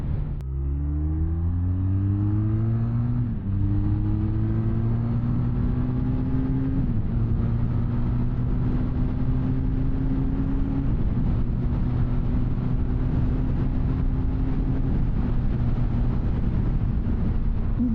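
A 2022 Benelli Leoncino 500 motorcycle engine drones steadily while riding, rising in pitch through the gears with clear shift dips, loud and continuous, no voices.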